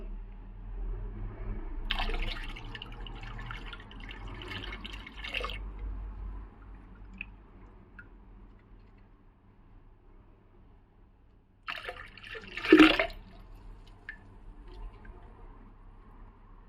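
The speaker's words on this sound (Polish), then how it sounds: "na samym końcu możemy przelać nasze wcześniej przygotowane drożdże" Prepared wine yeast poured into a fermentation bucket of apple and pear juice, two bursts of splashing, trickling liquid separated by quiet dripping, close and fairly soft.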